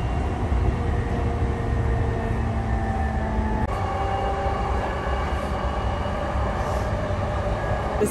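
A steady low rumble of a train in motion in Japan, with rolling wheel noise and faint tonal whines from the cars, continuous and fairly close.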